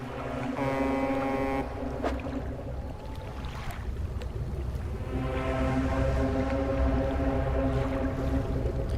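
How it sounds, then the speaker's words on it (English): A steady low engine rumble of a passing boat in a video game, with wind and water wash, continuous and fairly loud. "Oh, there's a boat!"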